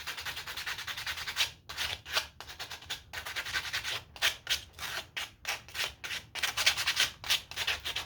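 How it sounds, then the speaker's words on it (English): Sandpaper rubbing over a hand-carved wooden chicken in a workshop, a run of quick, close scratchy strokes in bursts with short pauses between them. "Then get your piece of sandpaper."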